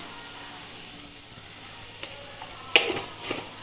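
Ingredients sautéing in a pan for a crab curry, with a steady close sizzle of hot oil and a few clattering knocks of the spoon stirring toward the end.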